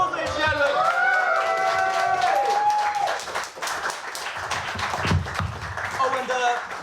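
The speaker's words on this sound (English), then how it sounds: "Give a round of applause, ladies and gentlemen!" A comedy club audience at a live show applauds and cheers, a crowd patter of clapping that swells early then thins, overlapping with loud voices and singing.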